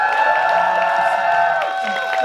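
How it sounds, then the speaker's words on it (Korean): Fans at a K-pop girl group's second single album showcase applaud and cheer, a steady wash of crowd clapping and whoops with a sustained musical tone beneath, with voices mixed in. "박수 한번 주세요"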